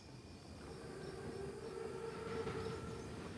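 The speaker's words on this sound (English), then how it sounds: "Train's right on time." Armored Panzerzug train in the World War II game Call of Duty: WW2, a steady rumbling rail roll with metallic wheel and carriage noise, mid-distance and continuous, swelling slightly toward the end.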